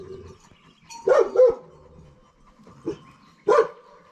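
A Karabash dog gives a few short, sharp barks in separate bursts, close by, with quiet panting and pauses between them.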